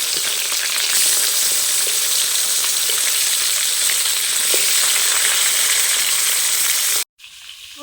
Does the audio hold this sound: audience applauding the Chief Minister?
no